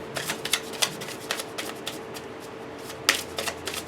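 A deck of tarot cards is shuffled by hand in repeated quick riffling bursts, close and crisp, with one louder flurry toward the end.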